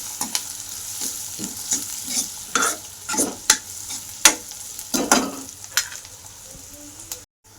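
Onions fry in a pan until reddened, with a background sizzle under repeated scraping stirs of a spoon that come in uneven bursts, close and clear with no talk.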